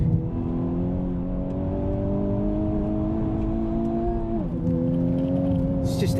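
A Honda Civic Type R engine drones loudly under hard acceleration on a track, its pitch climbing, dipping briefly at a gear change around the middle, then pulling strongly again.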